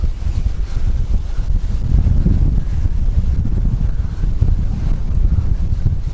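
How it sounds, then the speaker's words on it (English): Strong headwind roars across the microphone on a slow-moving boat, a loud, continuous buffeting rush with gusty surges and no voices. "The headwind is a total nightmare."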